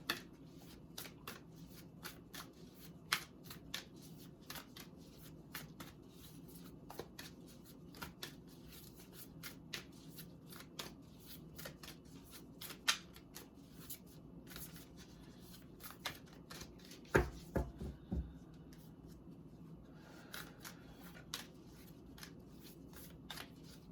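Moonology Manifestation tarot cards are shuffled by hand, a long run of soft, rapid riffling and flicking close up, with irregular snaps and a louder burst of card handling near the end.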